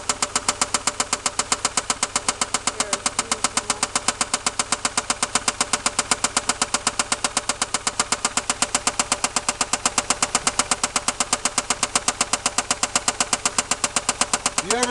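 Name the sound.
1990 Toyota Supra engine running with knock, likely a lifter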